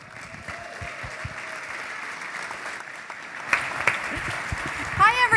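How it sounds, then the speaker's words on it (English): Sustained applause from a large audience at a dinner keynote event, steady and dense throughout, with scattered cheers and whoops rising toward the end and a few voices calling out near the close. "There was so much applause and cheering just before we came on stage"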